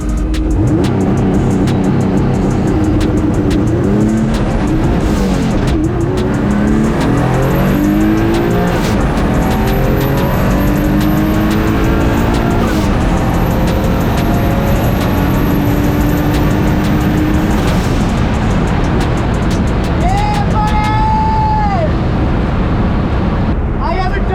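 Mazda MX-3 drag race car at a bracket racing event: a loud close engine wails up through repeated rising gear pulls with tire noise, sustained and roaring throughout, with speech mixed in.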